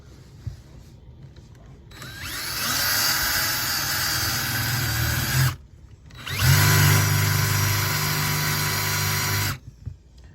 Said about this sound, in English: So we'll drill 4 holes.